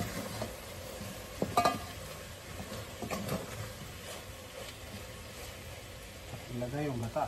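Ginataang laing is stirred in a pan over a low flame, a soft, steady scraping and light sizzle with a few sharper clinks of the utensil, while a voice talks over parts of it.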